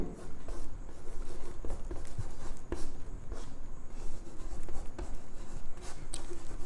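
Chalk or marker scratching across a board during a Class 12 chemistry lesson on first-order reaction half-life, a steady faint stream of short strokes and taps continuing throughout, with no voice over it.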